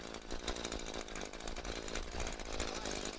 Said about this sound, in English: So we're going to start this up, and we'll show you how efficient this does as a blower.